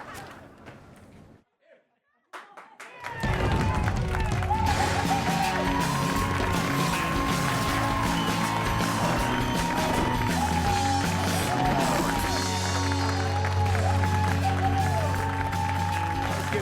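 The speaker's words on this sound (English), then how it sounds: "Keep clapping. You're not done yet. You're gonna keep clapping." A studio audience claps and cheers steadily, loud and continuous for most of the stretch after a brief quiet start, with whoops over the applause.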